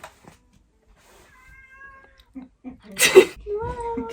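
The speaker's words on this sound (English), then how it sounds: "I have a cat, hold on." A domestic cat meows close by, with a thin drawn-out call and then a louder rising meow, alongside a person's voice and handling noise.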